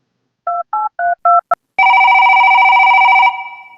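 A telephone is dialed: a quick series of short push-button DTMF tones, then a steady ringback tone that sounds for about a second and a half before cutting off. The tones are loud and close, with no voices.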